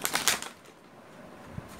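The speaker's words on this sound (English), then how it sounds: "I'm gonna shuffle once more and then cut the deck" A deck of playing cards is shuffled and cut, giving a quick papery riffle burst in the first half second, followed by quiet with a soft tap near the end.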